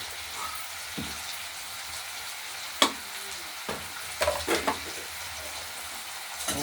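Potato pieces fry in hot oil seasoned with salt and a little turmeric, a faint steady sizzle broken by a few soft clinks and scrapes of a spoon in the pan.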